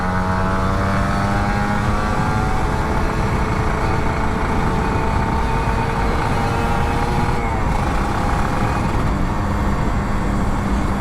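A loud, steady engine drone with a sustained rising whine close by from an older Kawasaki Ninja RR 150 two-stroke sport motorcycle at speed after a full service; a voice is faintly present beneath it.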